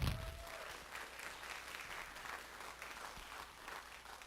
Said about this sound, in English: Give them a round of applause for that, please.